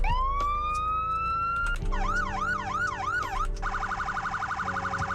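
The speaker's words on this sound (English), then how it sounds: "And here are the sirens." Police car sirens on a Crown Vic cop car in the Greenville game, a rising wail that shifts into a fast-cycling yelp and then a rapid hi-lo pulsing tone, loud and continuous over a low engine drone.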